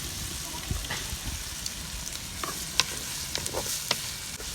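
Four large finely chopped onions frying and being stirred in hot oil, a steady close sizzle with scattered crackles and soft stirring scrapes throughout.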